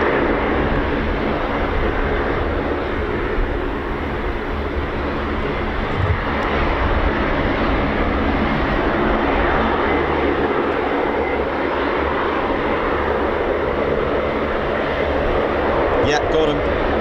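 Military jet aircraft flying over RAF Mildenhall, a USAF air refuelling base, producing a loud, continuous broadband engine roar that holds steady throughout with little change in level.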